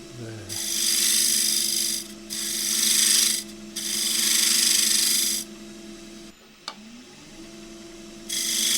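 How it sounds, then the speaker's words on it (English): A punky box elder lid rubs against the spinning box on a lathe in repeated rasping bursts of a few seconds each, separated by short pauses over the lathe's steady hum, with a sharp knock near the end. "Hold this up very lightly, and where it rubs is where it fits."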